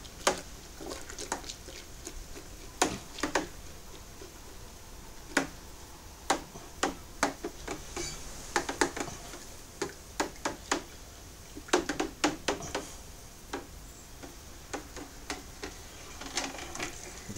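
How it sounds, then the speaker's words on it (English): A whisk stirring light dry malt extract into home brew beer, giving irregular light ticking and tapping clicks against the container over a faint watery background. "Give that a good stir."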